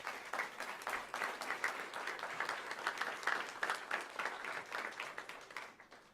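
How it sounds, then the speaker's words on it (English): A university audience at a fall state-of-the-university address applauds with sustained clapping from many hands, fairly distant and moderately quiet, tapering off at the end. "would you give Colonel Henderson a round of applause?"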